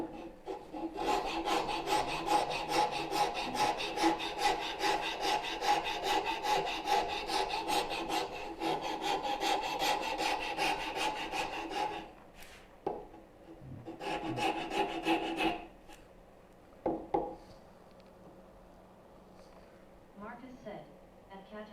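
Scraping glued-on paper patterns off wood from a turning bow saw project, a rapid rasping scrape in long bursts that stops and restarts, with a voice talking over parts of it.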